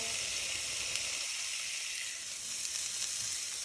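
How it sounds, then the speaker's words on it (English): A steady, close sizzle of corn frying in hot oil, a continuous bright crackling hiss with no talking. "pour this corn in, and that's what I wanted to hear, a nice sizzle"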